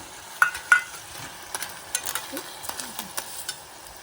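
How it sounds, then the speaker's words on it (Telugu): Crabs hit a hot pan and are stirred for a curry, giving a soft sizzle with scattered scraping and clinking of a spoon against the pan, fairly quiet and close. "ఇగో పీతలు వేస్తున్నాను."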